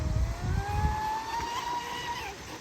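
A Traxxas Spartan SR RC boat runs at full throttle on open water, its motor giving a thin, rising whine that holds steady and then drops off, heard at a distance over wind noise.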